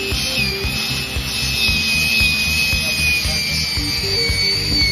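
An Arbortech mini grinder fitted with a sanding disc grinds against wood in a steady, loud, continuous whine with a rough rasping texture, close up and without speech.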